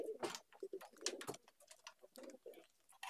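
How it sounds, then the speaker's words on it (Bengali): Giribaj pigeons cooing up close, a series of soft repeated coos and wing flutters in short bursts, with no voices. "এই দেখুন গিরিবাজ আমার পায়রা"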